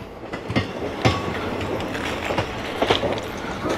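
The Tirupati to Karimnagar train rolls into Karimnagar railway station, close and loud, with wheels clacking over rail joints in repeated bursts above a continuous rumble.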